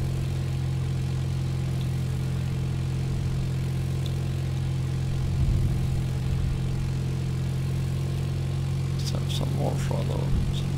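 A small airplane engine hums steadily in the cockpit while flying a traffic pattern, its throttle advanced on approach, with a brief muffled voice and cabin rattles over the constant drone.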